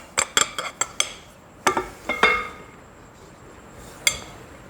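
Dry ingredients go into a chocolate pecan Coca-Cola loaf batter, with a run of sharp clinks and scrapes of a utensil against a mixing bowl, some in quick clusters, then a single late clink after a pause.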